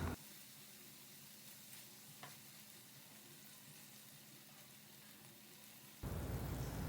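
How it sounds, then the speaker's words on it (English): Paneer cubes sautéing golden brown in a pan give a soft, even sizzle that runs steadily and fairly quiet with one faint tap, before a louder, harsher burst of frying noise near the end; no one talks. "we need to saute them until they turn golden brown from both the sides"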